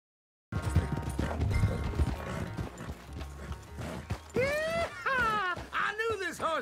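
Horse hooves clip-clop in Red Dead Redemption 2, with a steady trotting rhythm close by under music and game noise, followed by a horse whinnying.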